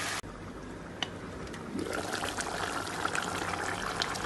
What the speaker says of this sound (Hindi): अब मैं इसमें थोड़ा सा पानी डाल